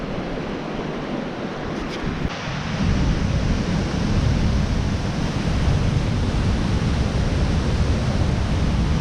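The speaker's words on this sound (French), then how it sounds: "Il y a quand même une petite cascade avec la même rivière à peu près" A small waterfall on a mountain river rushes in a steady, dense roar that swells slightly louder after the first couple of seconds and holds unbroken, with no voices.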